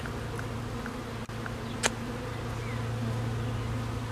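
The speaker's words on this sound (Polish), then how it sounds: "popatrzmy na te pszczoły" Bees hum around a hive in a soft, continuous buzz at moderate distance, joined by a brief click and a short higher whine partway through.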